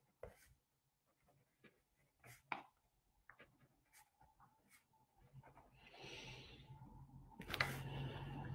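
Pen scratching on paper during journaling comes in short, quiet strokes with pauses between them, close and soft in a hushed room, and a faint background hiss rises near the end.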